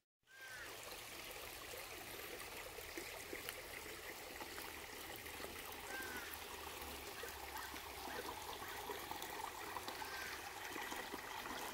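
Quiet, steady trickling of a stream flowing over rocks, faint and continuous, with no voices.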